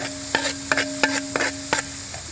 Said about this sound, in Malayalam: ഇവിടെ വെളുത്തുള്ളി പേസ്റ്റ്, ഗാർലിക് പേസ്റ്റ് നല്ലതുപോലെ വഴറ്റിക്കൊണ്ടിരിക്കുകയാണ്